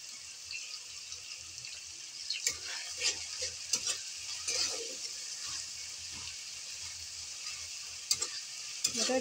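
A gram flour vegetable curry fries quietly in a pan while a utensil stirs and scrapes it, giving soft scattered clicks and scrapes over a faint continuous sizzle.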